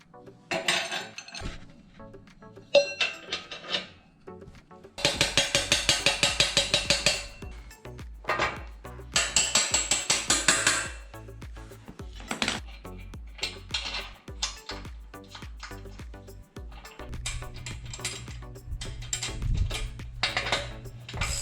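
Rear tire and wheel going onto a Mega Moto 212 minibike during assembly, with repeated metallic clanks, clinks and knocks of parts and tools, some bursts loud and close, no talking.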